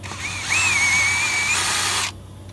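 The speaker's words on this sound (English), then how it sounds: "And we'll drill down a little dimple." A small power drill whines briefly, drilling a stop hole at a crack in a bass boat motor, its pitch rising then holding steady for about a second and a half before cutting off, close and clear.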